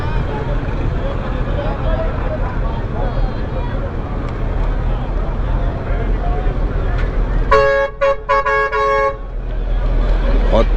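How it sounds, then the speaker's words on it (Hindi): Horns on buses at a rainy bus terminal in Karachi during a thunderstorm honk loudly in a burst of repeated toots over steady rain and street rumble, with voices in the background. "बहुत तेज हॉर्न बजाया है।"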